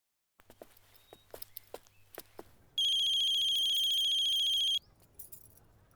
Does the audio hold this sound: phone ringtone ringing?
yes